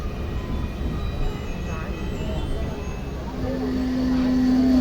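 A deep, rumbling train rolls past nearby at Angamaly railway station, growing louder, with a sustained horn-like tone rising near the end and faint voices.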